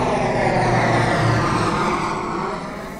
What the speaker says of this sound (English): Mammy Pig lands the plane on the ground.